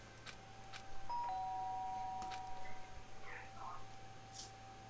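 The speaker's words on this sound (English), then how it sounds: "Sharp sound of the doorbell pierced my sleepy haze and pulled me back to the real world." A soft electronic doorbell chime from the video game Danganronpa sounds once under steady background hiss, with faint quiet murmuring around it.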